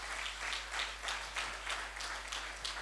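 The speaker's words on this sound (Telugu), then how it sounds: "గట్టిగా చప్పట్లు కొడదామా" A church congregation claps during a sermon. The clapping is steady and rhythmic, with repeated bursts of fairly regular hand claps that hold moderate loudness for the whole clip, under a low constant hum.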